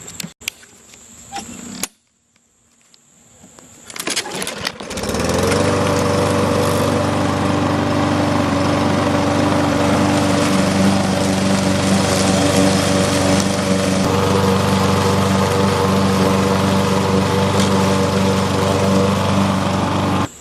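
Push lawn mower: a few quiet knocks and a brief pause, then the engine catches and runs loud and steady at close range, a continuous droning hum to the end.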